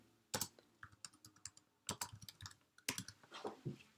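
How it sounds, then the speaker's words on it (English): Search criteria typed on a computer keyboard: close clicks of keystrokes come in three quick bursts with short pauses between, and no talking. "I can go up in our search bar here and I can type in"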